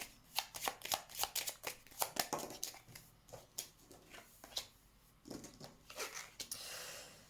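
Oracle cards being shuffled and drawn at close range, a rapid series of crisp papery riffles and slaps in uneven bursts, with no voices.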